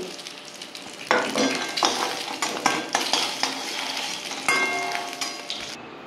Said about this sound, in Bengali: দেখুন আমার ডিমগুলো লাল করে ভাজা হয়ে গেছে।